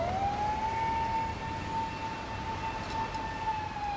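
Police siren on a nighttime street in Osaka, a sustained wailing tone rising and then holding steady over a low traffic rumble, fairly close and prominent throughout.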